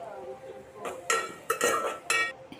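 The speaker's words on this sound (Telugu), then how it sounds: "సాల్ట్ కూడా వేసుకొని ఒకసారి బాగా కలుపుకోండి." A utensil stirs onions and salt in a metal pan, giving soft scraping followed by three or four brighter, close clanks against the pan in quick succession.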